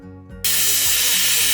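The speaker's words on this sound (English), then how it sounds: "a plasma cutter, which would hopefully go through the 1/8 inch thick aluminum sheeting like butter" Plasma cutter cutting 1/8 inch thick aluminum sheeting on a 1995 ambulance conversion: a brief low hum, then a sudden loud, steady, broad hiss close by that holds to the end.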